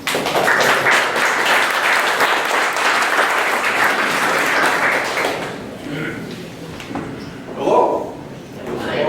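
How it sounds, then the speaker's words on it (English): An audience applauds loudly for several seconds, then the clapping fades into scattered claps and a few voices. "please give them a warm round of applause"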